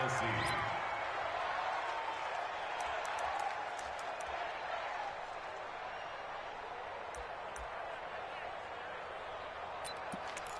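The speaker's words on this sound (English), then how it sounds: "Listen to this crowd now." A large stadium crowd in an American football video game roars in a broad, sustained wash that swells early and gradually eases, with faint sharp taps scattered on top.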